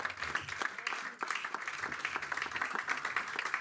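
A church congregation applauds in acclamation to the Lord after a pastor's sermon. The clapping is sustained and fairly even over a few seconds, at moderate distance, with no speech over it.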